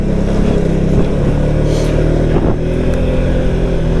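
A 2023 Can-Am Outlander 700 XT ATV engine revs steadily and loudly while the machine is ridden in 4x4, a close, continuous drone with slight pitch wobbles.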